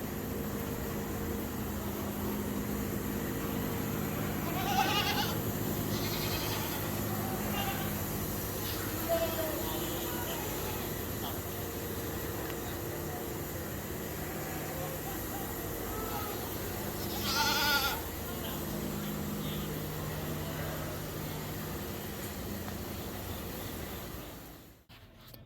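Goats bleat intermittently at a fair goat show, several scattered calls over a constant hum of crowd and ventilation noise, with people talking in the background.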